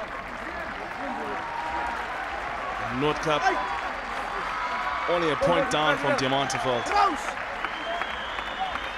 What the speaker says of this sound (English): Well, everybody's clapping,